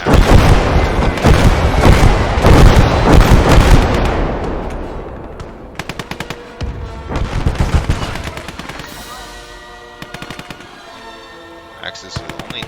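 Rocket artillery and other weapons in the war game Gates of Hell, a loud dense volley of blasts and booms, then scattered sharp shots and crackling bursts that thin out toward the end, with speech likely under the fire.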